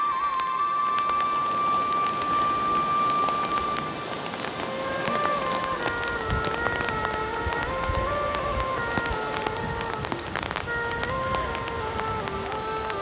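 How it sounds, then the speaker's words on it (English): Hail patters on a food tent at a camp on the Lares Trek to Machu Picchu, a dense steady rattle of ice on fabric that runs without pause under a faint electronic tone. "right before all this hail started coming down"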